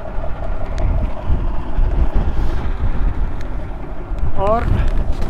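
Strong wind roars across the snowy Salang mountain pass in Afghanistan among snow and glaciers, a loud, constant buffeting rumble against the microphone, with a brief voice near the end.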